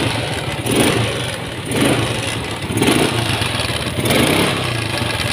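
A Yamaha Mio scooter with a carburetor problem revs up and down as the throttle is raised, four loud swelling pulses over a rough idle, close by with no talking.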